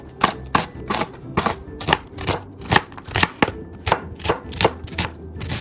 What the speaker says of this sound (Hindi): अब मैंने यहाँ पे लिया है लार्ज साइज का प्याज, और इसको हम रेगुलर तरह से स्लाइस कर लेंगे।